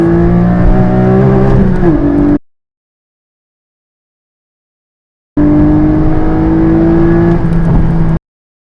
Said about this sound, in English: You need to get those revs up.